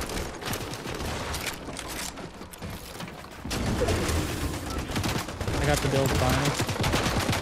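Rapid gunfire bursts from a team battle-royale video game with building mechanics, dense and continuous throughout, growing louder midway, with players talking over it.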